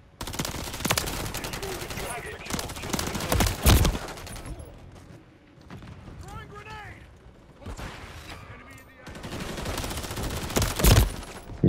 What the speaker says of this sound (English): Don't shoot, you're shooting another guy.